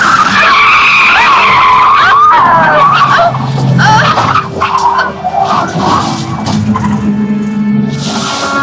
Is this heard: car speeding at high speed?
yes